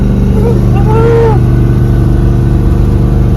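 A 1974 Ford F350 truck engine drones loud and steady from inside the cab, a continuous low rumble with a pulsing throb, while a voice speaks briefly over it.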